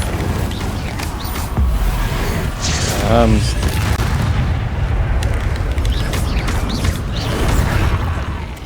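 Fire spells cast in Hogwarts Legacy combat, with deep booming blasts and crackling bursts rolling over one another amid a dense, loud clamour of fighting and a brief whooshing sweep.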